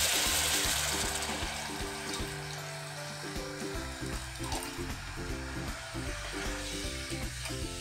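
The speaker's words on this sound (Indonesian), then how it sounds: "setelah harum saya tambahkan airnya" Water added to sautéed aromatics in a pot while cooking a cheap Hong Kong-style hot pot, a loud rushing pour with sizzling hiss over low, steady kitchen hum, no speech.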